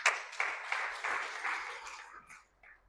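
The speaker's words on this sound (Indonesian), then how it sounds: "Tepuk tangan bagi Tuhan kita." A church congregation claps in applause during a sermon at an Indonesian GBI service. It is a short, dense burst of many hands with a few stronger pulses, fading out over about three seconds.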